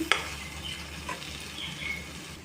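Egg masala mixture with beans stirred in a frying pan, a soft, steady sizzle with a sharp utensil clink at the start and a few faint scrapes as it is mixed.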